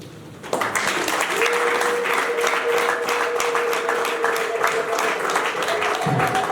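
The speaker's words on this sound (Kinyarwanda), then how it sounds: "mwakiriza amashyi ariko n'impundu" Sustained loud applause from a wedding crowd welcoming the groom, steady dense clapping throughout with a faint held tone running beneath, close and continuous.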